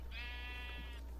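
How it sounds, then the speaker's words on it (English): Sheep bleating in the video game Minecraft, one sustained wavering bleat lasting about a second, clear and close with nothing else over it. "Oh my gosh, it's the sheep! He's here!"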